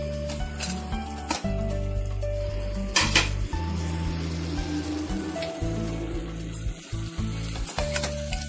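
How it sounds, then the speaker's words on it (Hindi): Masala with chopped tomatoes frying in a pan for paneer masala crackles in a loud, dense sizzle, repeatedly broken by clanks and scrapes of a spoon stirring the mixture, close and continuous. "सभी को अच्छे से मिक्स करके अच्छे से इसे भूनना है"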